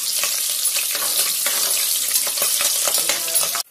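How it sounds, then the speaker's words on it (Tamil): Slit green chillies sauté in hot oil in a pan for kuska biryani, a dense, steady crackling sizzle throughout with small stirring clicks, cutting off abruptly just before the end. "பச்சை மிளகாய் சீறி விட்டு பச்சை மிளகாயை அதில் கூட சேர்த்து அடிச்சுக்கிறோம்"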